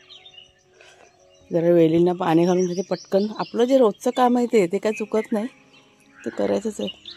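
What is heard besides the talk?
crow cawing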